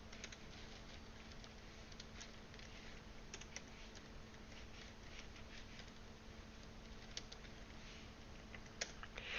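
Computer keyboard being typed on while writing code, a faint, close patter of quick key clicks in irregular bursts over a steady low hum.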